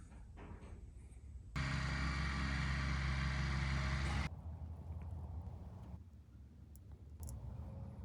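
A GM 4106 bus engine, fitted with a new custom muffler and turbo, idles loudly and steadily for about three seconds, then drops to a quieter rumble with faint background noise.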